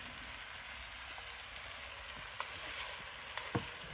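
Beef and its juices sizzling in a pan over a campfire, a soft, faint frying hiss. A few light scrapes and knocks of stirring come through near the end.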